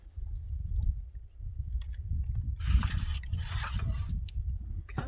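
A few short hissing sprays from a Lunatec water misting bottle onto dishes over a low background rumble, close by.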